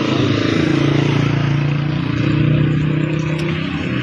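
A motorcycle engine runs steadily and loud at close range, a continuous low rumble with no talk over it.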